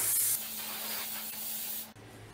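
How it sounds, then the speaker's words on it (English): Hairspray from an aerosol can sprayed onto hair while the head is flipped upside down, one long steady hiss lasting nearly two seconds, close and fairly loud, then cutting off sharply. "spray your hairspray like upside down"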